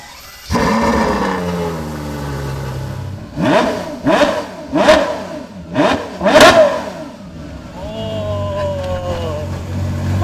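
A Ferrari F12 TDF engine revs hard in a series of quick, sharp bursts, pitch leaping up and dropping fast, with a low idle rumble before and after.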